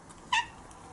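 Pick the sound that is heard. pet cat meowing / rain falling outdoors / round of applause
pet cat meowing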